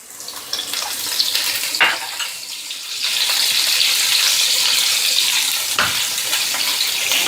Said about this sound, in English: So we'll start by sauteing our garlic.